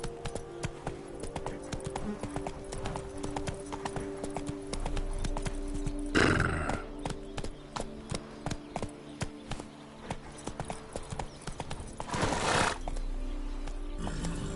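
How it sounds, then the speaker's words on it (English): Hooves of a horse clip-clop at a steady galloping rhythm in a video game, close and clear, with two short whooshing bursts and an occasional whinny over a faint music backdrop. "Run, Roach"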